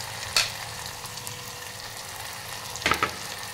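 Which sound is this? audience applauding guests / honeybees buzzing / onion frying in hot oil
onion frying in hot oil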